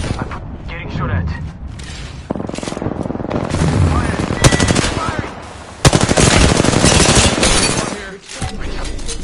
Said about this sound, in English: Yeah, I'm getting shot at.